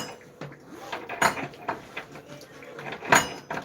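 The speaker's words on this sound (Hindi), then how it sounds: "अब ताला वाला खुल रहा है।" A door lock is opened indoors, with a series of metallic clicks, rattles and knocks scattered irregularly across a few seconds, close and moderately loud.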